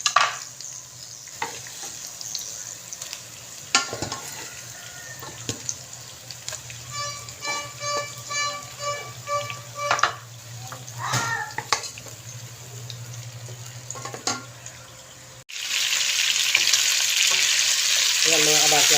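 Quail meat sautés in a pan with garlic, onion and ginger, a steady sizzle with repeated stirring scrapes, ending in a louder burst of frying.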